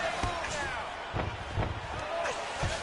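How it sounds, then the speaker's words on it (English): Hammer fist strikes in a UFC video game fight land as several dull thudding impacts spread across the moment, set against a steady background of crowd and commentary ambience. "He hits him with a hammer fist."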